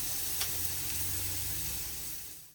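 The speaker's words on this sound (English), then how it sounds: "Stir-fry the carrots with a little oil" Carrots stir-frying in a little oil give off a steady, close sizzle and hiss with a soft clack from stirring early on, running unbroken for about two and a half seconds before cutting off.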